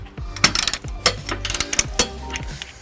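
A ratchet fitted with a 19mm socket tightens a trailer hitch stud on a 2002 Chrysler Town and Country, giving close, crisp rapid clicking bursts in several uneven strokes over about three seconds.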